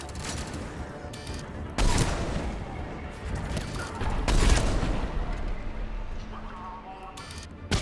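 Rapid gunfire in the Mass Effect 3 video game, bursts of loud close shots and cracks coming in clusters, with a voice talking under the shooting.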